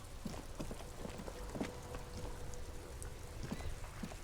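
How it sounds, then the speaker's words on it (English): Steady rainfall on a night outdoors, a continuous dense patter with scattered louder drops and light taps on nearby surfaces, moderate and even throughout. "It's raining again."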